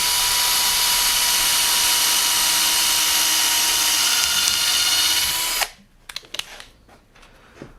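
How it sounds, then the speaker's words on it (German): A power drill bores a 2 mm hole through wood during a Bosch POF 1200 AE router fitting, one loud continuous whine lasting several seconds before it cuts off, followed by faint clicks and handling noise. "Dann bohren wir hier noch ein 2 mm Loch durch."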